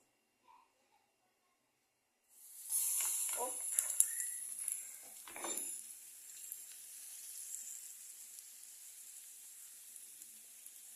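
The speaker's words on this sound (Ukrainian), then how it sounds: "Чотка розігріта сковорідка, трошки олійки на перший." After a brief silence, pancake batter hits a hot oiled pan with a sharp sizzle that settles into a steady, crackling fry, heard up close.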